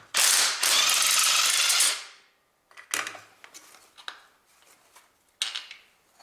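A tool, likely an air ratchet, loosens big bolts on a 1.8 Honda Civic R18 engine during clutch plate replacement. A loud sustained whirring burst is followed by scattered metallic clicks and clunks close by.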